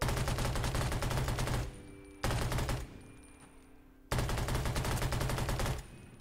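Rapid automatic gunfire from shooting zombies in the video game Undawn comes in three long, loud bursts, separated by short quiet gaps with faint game ambience.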